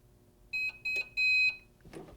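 A heat press timer sounds three bright electronic beeps, two short and one longer, spaced close together and clear, followed by a brief soft rustle.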